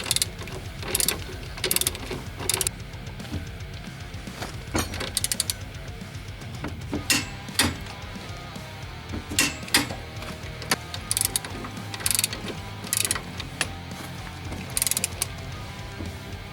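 Ratchet tightening the lower strut mounting bolts on a 2000 Toyota Camry XLE 3.0L V6, with bursts of sharp, close clicking repeated in short runs separated by pauses, over faint mechanical background.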